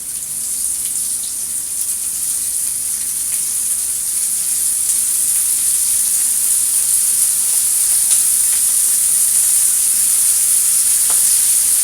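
Onion rings fry in oil in a home kitchen, giving a steady, loud, hissing sizzle that barely changes throughout, with no voices.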